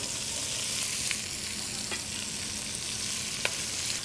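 Chopped vegetables softening in bacon fat over medium heat for Cajun red beans and rice: a continuous close sizzle with a few faint stirring taps.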